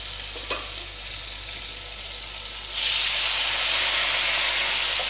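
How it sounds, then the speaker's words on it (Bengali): Red lentil dal poured into a hot pan of tomatoes, a steady close sizzle that jumps suddenly into a louder rushing hiss of steam midway and holds, with no talk. "এবার আমি ডালটা ঢেলে দেবো।"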